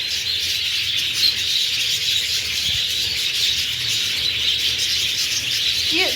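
Pet parrots kept for breeding chirp and twitter continuously, a dense bright chatter of many birds close by, steady and fairly loud, with a few sharper calls rising out of the flock.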